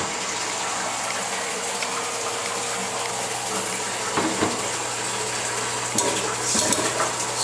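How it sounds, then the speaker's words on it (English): Water drains from a jet impact tank as a steady, broadband rushing gush that runs alone throughout, with a low hum beneath and a few brief bumps and knocks near the end. "Slide it over to drain until it becomes almost weightless"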